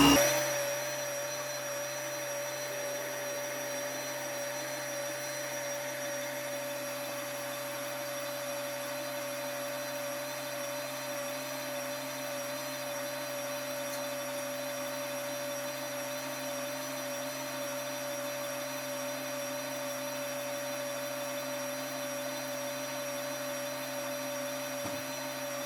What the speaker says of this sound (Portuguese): Vou ligar a batedeira, deixar batendo e vou acrescentar o açúcar.